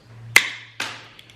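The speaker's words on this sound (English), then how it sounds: "This is number 8 wire. It's a bit harder to cut, but it can be done with one hand." Two sharp snaps a fraction of a second apart as Knipex high-leverage pliers bite through number 8 fencing wire, close and loud, the second cut a little softer.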